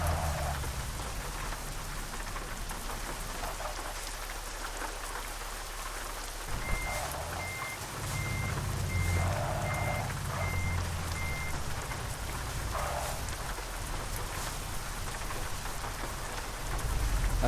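Steady rain falls throughout a Euro Truck Simulator 2 truck drive, a dense continuous hiss over a low engine rumble, with intermittent reversing beeps chirping through the middle stretch.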